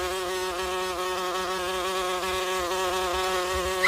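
Mosquitoes: a steady, close, whining insect buzz with a sustained droning tone, unbroken and alone for a few seconds.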